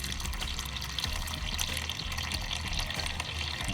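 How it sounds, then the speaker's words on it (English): Water runs from a tap into a pot of potatoes in a home kitchen, a soft, continuous splashing stream that stays fairly quiet and steady throughout. "I'll cover them with water, and then I'll turn the heat on medium high."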